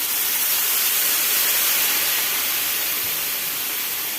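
Water poured into a pan of semai (vermicelli) upma with salt and sugar, making a loud, steady rushing hiss that holds without a break.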